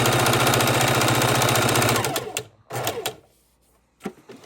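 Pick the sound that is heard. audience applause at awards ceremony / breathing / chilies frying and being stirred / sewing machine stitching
sewing machine stitching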